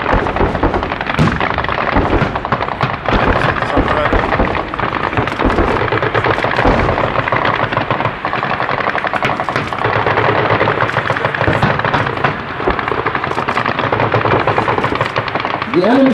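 Military exercise gunfire and artillery fire, a dense run of sharp cracks and bursts repeating through the whole stretch, loud and continuous with no voices.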